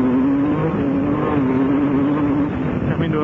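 A race car engine runs at full throttle on a motorsport track, holding a loud, steady, droning note that barely wavers before it dips slightly near the end.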